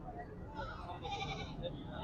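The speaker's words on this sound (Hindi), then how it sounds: "ये देखिए बीतल बकरी है माशाल्लाह" A Beetal goat bleats on a goat farm in Sialkot amid a noisy, bustling background with people talking nearby; the bleating sits under the general din.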